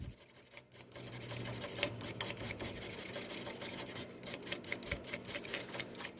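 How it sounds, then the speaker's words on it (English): 400 grit sandpaper rubs with the grain along a wooden pen, giving a soft, steady scratchy rasp with rhythmic strokes, quiet and close, with no talk. "I'm just going to give it a nice wipe with the grain with 400 grit"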